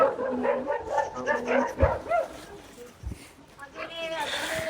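Several dogs bark in short bursts at a moderate distance in a small Himachal village, overlapping with people talking nearby.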